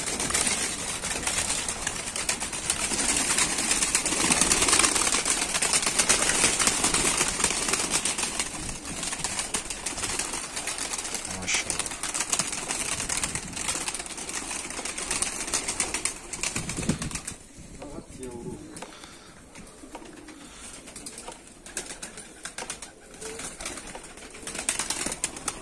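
Pigeons kept in a snowy, cold coop coo softly, with bursts of flapping wings, mostly in the first half before things quiet down.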